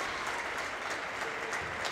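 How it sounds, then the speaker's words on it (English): A basketball crowd applauds a high school player at a boys' game, steady dense clapping throughout, moderately loud and continuous with no pauses. "Round of applause for Will."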